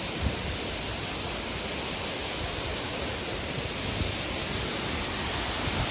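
Sirimane waterfall roars from close by, a dense, loud, unbroken wash of falling water that stays steady throughout with no voices.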